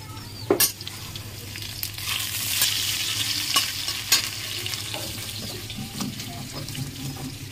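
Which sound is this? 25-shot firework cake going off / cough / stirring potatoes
stirring potatoes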